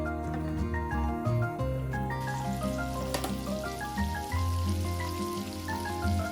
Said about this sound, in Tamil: நான் போட்ட இந்த பட்டர் வந்து பாருங்க நல்லா உருகி வந்துட்டுது